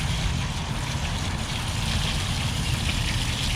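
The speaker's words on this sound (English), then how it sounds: "Here to wash out a tie-dye t-shirt." Steady running water from a tap rinses a freshly dyed bullseye tie-dye t-shirt, a continuous close splashing rush with no pauses.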